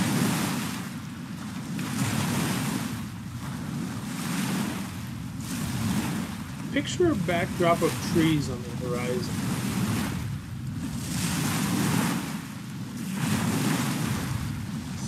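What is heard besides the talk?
ocean waves crashing on shore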